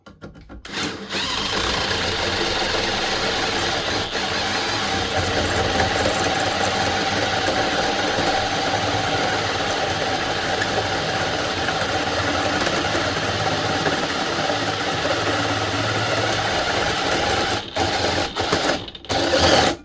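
A power drill cuts through metal on a job site, running at its second speed setting: a loud, steady whirring grind that holds for most of the stretch before stuttering and stopping near the end.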